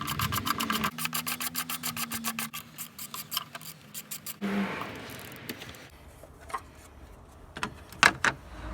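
Bolts and an engine cover being removed on a 2013 Honda CR-V, with rapid rhythmic ratchet clicking, a brief whir, then scraping and plastic clunks as the cover comes off, close up.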